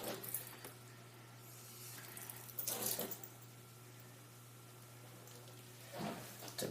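A tap runs briefly at a sink to wet a finger, giving a few short, close splashing bursts against a low, steady background hum, and no one talks.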